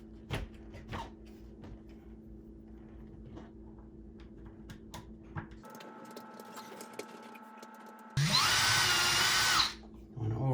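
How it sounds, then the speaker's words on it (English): A power drill whines in a loud sustained burst near the end, drilling a pilot hole in a door frame, after quieter workshop handling noises and tool clicks. "drill a pilot hole, and attach them to the door"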